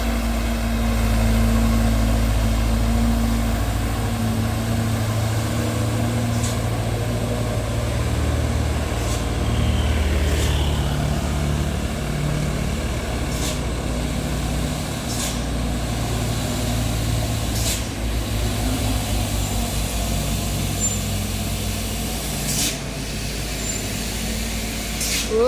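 A Mitsubishi Canter Euro 4 truck labouring on a steep climb it keeps failing, its engine droning low and heavy at close range with occasional clicks and hisses over the strained rumble.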